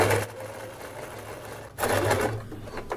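A sewing machine stitching thin fabric runs in a steady whirring burst, pauses briefly, then starts again, close and clear without talk.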